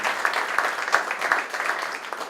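Generous applause from an audience at a law symposium panel, a steady, moderately loud patter of many hands clapping throughout, with occasional sharper claps standing out.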